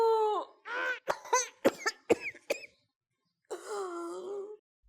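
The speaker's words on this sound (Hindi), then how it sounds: "ये खांसी और सांस मुझे जीने नहीं दे रही।" A woman coughs in a rapid series of harsh, close bursts, then lets out a long strained, wheezing moan as she struggles for breath, with no talk.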